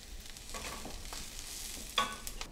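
Collard greens cooking in a pan, a soft steady simmer and sizzle with a couple of faint utensil clicks, quiet and close, with no voices.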